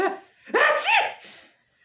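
A reader voices a single sneeze while reading a Christmas story aloud, a quick breathy intake followed by a loud 'achoo' burst, close and alone before silence.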